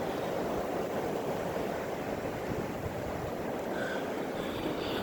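Strong blizzard wind roaring steadily and loudly as a constant broadband rush buffeting the microphone, with no talking.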